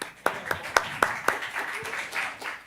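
A small audience claps in a short, sparse burst: about five distinct, fairly close hand claps in an uneven rhythm that thin out into scattered softer claps, with no voices over them.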